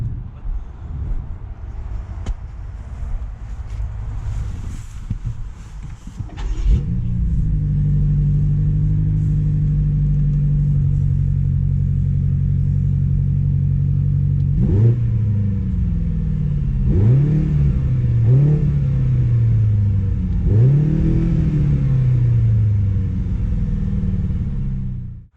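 A 2021 BMW X6 M Competition SUV idles with a rough rumble, then fires into a loud, close engine roar and accelerates hard through several rising, stepped gear pulls.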